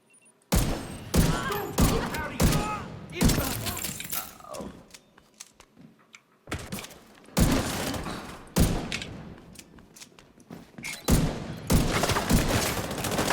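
Heavy gunfire from The Division 2 in bursts of rapid automatic fire separated by short pauses, loud and close, with the odd thud among the shots.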